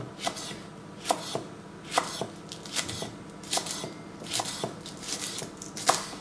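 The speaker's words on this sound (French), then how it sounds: "on coupe un petit peu de la partie verte" A knife chopping the green part of onions on a board for a crozets salad, a series of close, sharp, irregularly spaced cuts over a quiet background.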